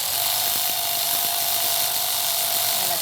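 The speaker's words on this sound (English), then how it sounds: "You're going to use a power tool" A power tool fitted with a 10 mm socket whines steadily and loudly while removing the valve cover bolts on a 2007–2012 Nissan Altima 2.5L four-cylinder, a continuous high motor hum with faint clicking underneath and no talk.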